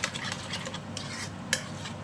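A spoon stirs salted curd (dahi) in a bowl while making dahi vada, giving steady close wet scraping and swishing with a sharper clink against the bowl near the end.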